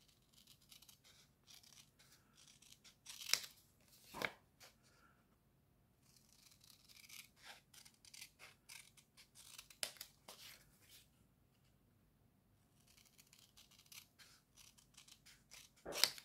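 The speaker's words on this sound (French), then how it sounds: "On va couper aussi celui-là." Scissors snip through paper while a handmade autumn card is made, with two crisp, distinct cuts near the start and softer, scattered snips after, all quiet and close with no talking.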